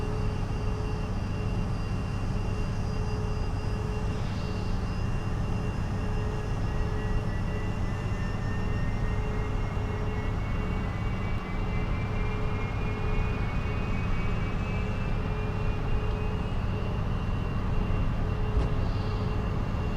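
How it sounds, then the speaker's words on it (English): Boeing 777 engines spool up for takeoff in the X-Plane 10 flight simulator, a steady loud roar with a slowly rising whine that holds throughout. "So we will go ahead and take off. Throttle up."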